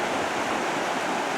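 Sheep Creek rushes past in full flow, a dense, loud, continuous roar of whitewater close by with no break or voices.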